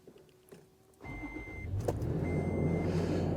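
A Toyota FJ Cruiser starts up after its engine bay has been washed, with a short crank catching into a steady low idle that grows louder and settles, heard close with no talking.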